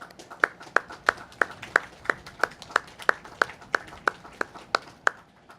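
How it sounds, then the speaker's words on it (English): Applause at a veterans' event comes as sharp, evenly spaced claps, about three per second, crisp and distinct rather than a dense crowd roar, with no talking over them. "let's give them a wonderful round of applause"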